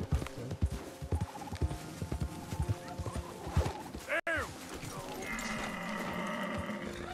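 In Red Dead Redemption 2, hooves clop in an uneven rhythm, then a horse gives a loud neigh, followed by a steady whooshing hum.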